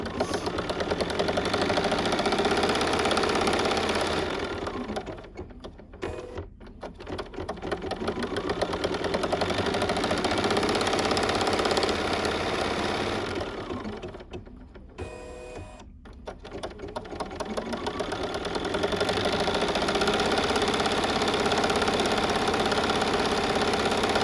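A Bernina sewing machine stitches with an echo quilting and cutwork foot, a loud, steady mechanical whir that dips twice in brief pauses before resuming.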